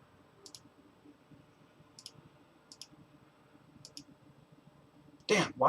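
Computer mouse clicks come in short, sharp pairs at a slow, uneven pace while someone works in 3D design and printing software, each click near and faint over quiet background talk and room noise.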